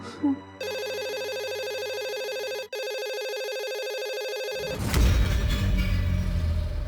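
A telephone rings on a call placed to a police station, a steady electronic ring tone with a brief break midway, then cutting off into louder background rumble and noise.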